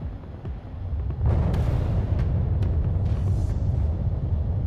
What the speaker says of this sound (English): Missile launch sequence complete, Chief. You're the best, Chatty. Here come the fireworks